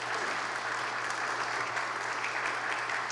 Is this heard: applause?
yes